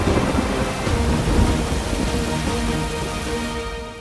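Heavy rain pours down in a record-breaking Hong Kong storm, a dense continuous hiss with low thunder rumbling underneath, loud and close.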